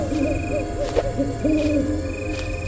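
An owl hoots several times in a dark, dense forest at night, the calls soft and rounded, coming in short repeated bursts over a quiet backdrop.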